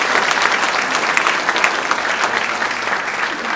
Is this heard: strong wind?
no